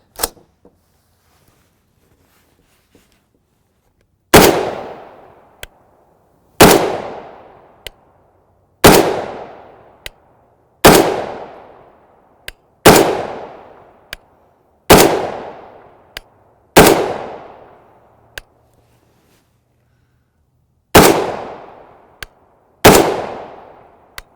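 A .308 Winchester rifle fires 167gr JHP rounds outdoors, ten loud, sharp shots spaced about two seconds apart, each followed by a fading echo, with a faint pop at the very start.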